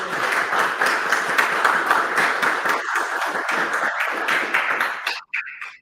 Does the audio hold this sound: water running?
no